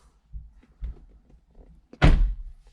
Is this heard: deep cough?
no